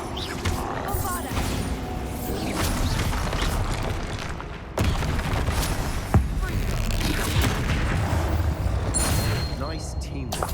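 Spell combat against a troll in Hogwarts Legacy, with the Bombarda blast among dense, continuous booming explosions, roars and impacts. A voice calls out spell names over the din.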